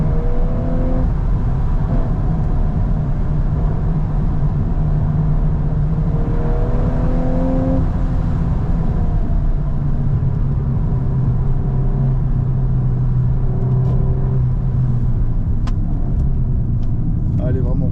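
Engine of an Audi R8 sports car accelerating on mountain roads, a steady loud drone with rising and falling pitch, heard close and continuous under someone talking.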